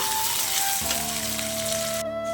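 Diced potato, onion, green chilli and capsicum frying in a pan give a continuous crackling sizzle, with a steady tonal hum running underneath.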